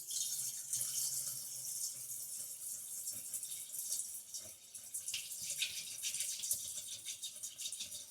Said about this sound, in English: That's what you want to do to pour your vinegar in.